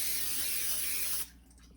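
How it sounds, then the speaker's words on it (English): Cooking spray hisses onto a baking sheet in one continuous, close burst lasting about a second before cutting off abruptly into quiet. "I'm going to grab my cooking spray and I'm going to spray my baking sheet."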